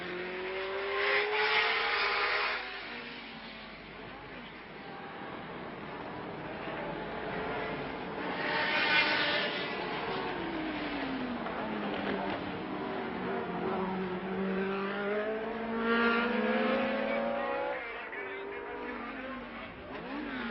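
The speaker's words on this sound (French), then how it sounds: "On apercevoir Jochen Rindt tout là-bas qui entame ces dernières centaines de mètres de circuit" A 1970 Formula 1 race car at the French Grand Prix, its engine note rising and falling as it passes in the distance, with a commentator talking steadily over the sound throughout.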